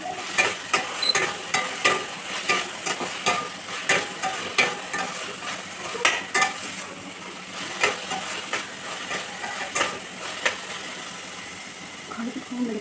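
Carrot and beetroot halwa being stirred in a pan, a spoon scraping in regular strokes about once a second over a low steady sizzle, with a voice speaking between the strokes.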